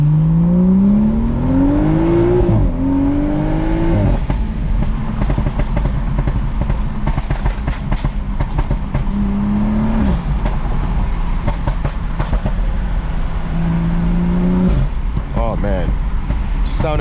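A tuned BMW M235i with an N55 engine on an FBO Stage 2+ pop tune drones and rises through the revs while driving, with a low cabin rumble and crackles, and someone talks over it.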